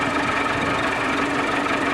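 A Massey Ferguson 375 tractor engine idles with a steady, dense rumble, loud and unbroken throughout, with no voices.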